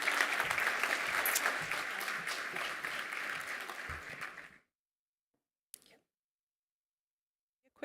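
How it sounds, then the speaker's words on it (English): An audience at a cleantech conference gives a warm round of applause, steady and fairly loud for about four and a half seconds before stopping abruptly, followed by silence broken by a couple of small clicks. "We can have a warm round of applause."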